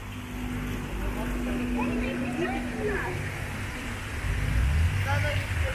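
Soviet bus passing on a street with fountains nearby, a low engine rumble and road noise that swells toward the end as it draws close, with people talking over it.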